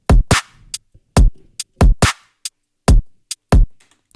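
A dubstep-tempo EDM breakbeat played alone and close: heavy kicks and bright snares in an uneven, forward-driving pattern with sparse hi-hat ticks and lots of space between hits.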